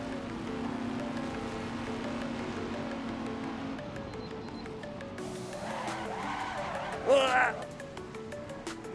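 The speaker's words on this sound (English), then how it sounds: "I locked up the fronts like crazy" In a racing video game, a Mazda MX5 race car's front tires lock up and screech in a short, sharp skid over a steady engine drone.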